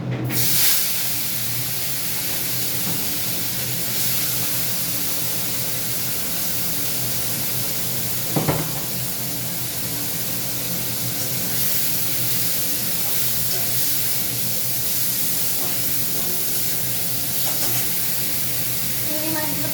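Shrimp fry in hot bubbling oil, giving a continuous broad hiss and sizzle close by, with a sharp burst near the start, a brief flare midway and occasional faint speech.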